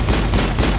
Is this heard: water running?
no